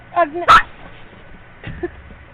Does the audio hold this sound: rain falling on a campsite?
no